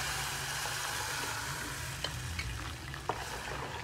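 Chicken pieces fry in a home kitchen pan during Sunday cooking, giving a steady, close, dense sizzle throughout, with a couple of faint clicks and knocks near the end.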